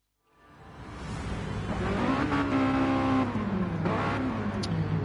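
Mazda touring race cars in a racing video game rev hard and do burnouts at Dragon Trail Gardens before the race, a loud, sustained engine roar that swells quickly from silence and stays steady with shifting pitch.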